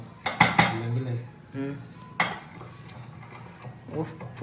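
Ice and chillies crushed in a container for homemade tamarind soda, giving several sharp clattering knocks and scrapes of ice, with quieter rattling in between.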